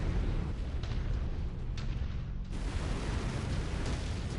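Heavy incoming enemy fire in a mech combat video game, with loud rumbling booms and explosive bursts rolling on continuously with no pauses.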